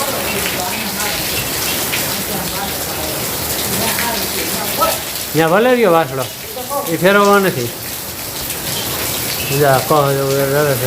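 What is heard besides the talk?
heavy unseasonal summer rain (mavthu) on a farm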